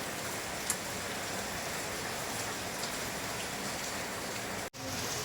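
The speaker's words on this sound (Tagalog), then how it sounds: "hindi pa rin tumitigil yung ulan" Steady typhoon rain falls continuously, a dense even hiss of drops on surfaces with no voices, holding constant throughout before a brief dropout near the end.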